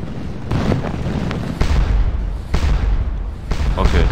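Cannon fire in a Napoleonic battle video game, with repeated heavy booms about once a second over a constant rumbling battle din, with voices underneath.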